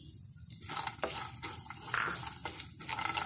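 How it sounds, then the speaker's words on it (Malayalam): Cumin and almonds sautéing in ghee in a hot pan, a quiet sizzle with a few spoon scrapes and soft clinks of stirring heard up close, no voices. "ചട്ടി ചൂടാക്കി 1 ടേബിൾ സ്പൂൺ നെയ്യ് ഒഴിച്ച് ജീരം, ബദാം, തേങ്ങ ഇവെല്ലാം വഴറ്റി കൊടുക്കുക."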